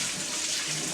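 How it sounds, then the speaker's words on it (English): A spoon is rinsed under a running kitchen tap while a smörgåstårta is assembled, giving a steady, close rush of splashing water that lasts about a second. "I will rinse off the spoon between"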